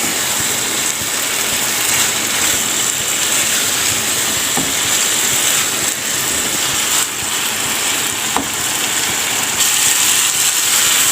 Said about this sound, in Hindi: तो अब देखिए चनों की भुनाई हो रही है साथ साथ माशाल्लाह से।